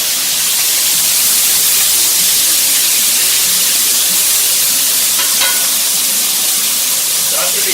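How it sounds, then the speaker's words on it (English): Shrimp cooking in a hot pan until pink, giving a loud, steady sizzle and hiss that fills the whole stretch, with a few brief clinks near the end. "you just want to cook them until they're pink"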